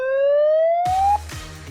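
A siren wails from a megaphone during a break between drift sessions, one steady rising tone that cuts off abruptly, followed by low rumbling engine and crowd noise.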